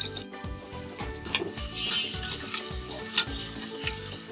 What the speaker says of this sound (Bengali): তো এই পেঁয়াজ কুচিগুলো দিয়ে দেব। এগুলো একটা বেরেস্তা করে নেব।